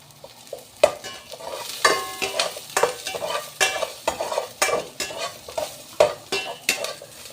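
Ginger and onion sautéing in a pan for chicken tinola, with a close, steady sizzle broken by repeated sharp scrapes and clacks of a spatula stirring.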